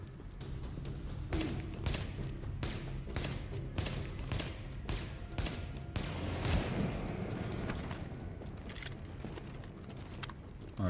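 Gunfire in the video game The Division, a string of sharp shots in irregular bursts over a steady low background, fairly loud and close throughout.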